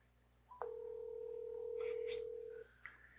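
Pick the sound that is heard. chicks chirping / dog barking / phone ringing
phone ringing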